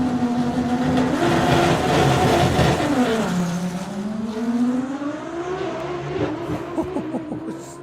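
A doorslammer drag car at a drag racing meet roars loud and close, its engine note dropping briefly then climbing steadily as power comes back in and it accelerates hard down the strip, with no voices over it.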